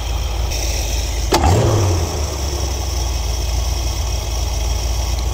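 A 1973 Ford Econoline engine with an Edelbrock carburetor idles steadily up close, rising in one quick throttle blip that swells and then settles back to a rumbling idle.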